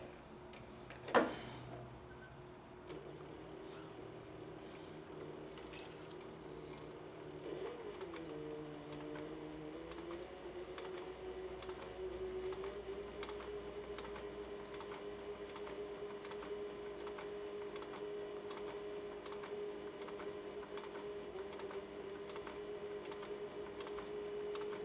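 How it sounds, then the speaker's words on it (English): A sewing machine stitches a cross-body sling bag along a scribed line, starting with a short back stitch, a steady fast mechanical ticking hum running continuously after one sharp knock at the start. "now I'm going to stitch right along it"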